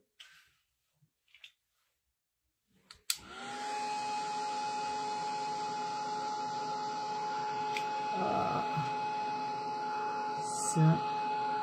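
After a few soft taps, a heat tool for scrapbooking switches on and runs loud and steady with a whirring fan and a constant high whine, heating a scrapbook page close by.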